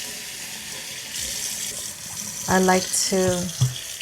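Warm water runs from a tap as a steady, moderate broadband rush through the clip, with someone talking over the latter part.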